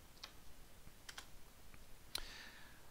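Sparse, faint key taps on a computer keyboard as an IP address is entered into a DNS lookup tool, a few scattered clicks with one sharper tap near the end.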